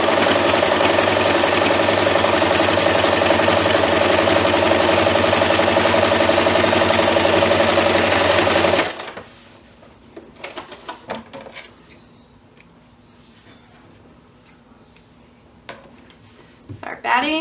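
A sewing machine stitches a fabric book sleeve, its motor a loud, steady whirring drone for about nine seconds before stopping abruptly, followed by quiet handling clicks and rustles of the fabric.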